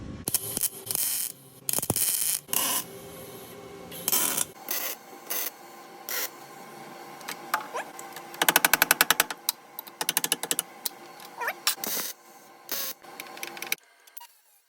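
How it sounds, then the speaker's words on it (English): A frame rail extension is tack welded onto a car front end in a garage. Short bursts of crackling and buzzing arc start and stop unevenly, with a longer rapid stuttering burst midway, then quiet gaps. "So we're gonna go ahead and tack weld the frame extension on."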